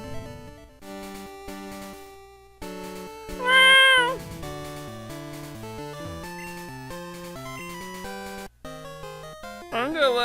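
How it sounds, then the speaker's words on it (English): A cat yowls briefly over steady chiptune game music from a Pokémon Gold and Silver playthrough, a short loud wail rising above the melody partway through. "The cat's caterwauling."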